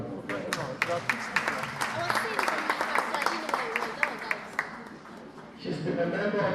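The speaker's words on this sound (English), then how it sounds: "Please give her a round of applause." Audience applause for a Scottish Green member of the Scottish Parliament at the opening of a community youth centre, with steady clapping for about five seconds under some voice activity before it thins toward the end.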